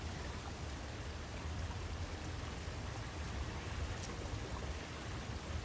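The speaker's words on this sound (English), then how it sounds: "now we can twist this and it should get rid of the water" Water draining away after a valve is twisted in the video game Far Cry 5, a steady rushing wash of noise that holds at an even level throughout with no voices.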